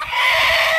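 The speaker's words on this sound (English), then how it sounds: "That was the big king rooster." A loud, sustained rooster call, a strained crowing cry held for under a second, close by.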